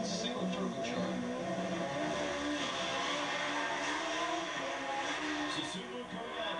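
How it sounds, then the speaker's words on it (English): A 1994 Nissan Silvia single-turbo drag car makes a run at Sacramento Raceway, its engine a distant, steady roar blended with crowd and track ambience and possible faint commentary. "Susumu Koyama takes the 1994 Nissan Silvia for his run, and boy, it's a good one too"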